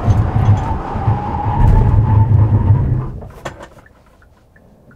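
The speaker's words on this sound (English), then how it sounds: "let's go out and check out the braking performance of Hyundai Staria" A Hyundai Staria van brakes hard from speed, its tires squealing and skidding loudly for about three seconds before the noise fades to quiet as it stops.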